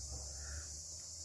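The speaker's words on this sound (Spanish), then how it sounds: "Por ahí se escucha una chicharra." A cicada buzzes as a steady, continuous drone, faint and distant, under quiet outdoor ambience with no voices.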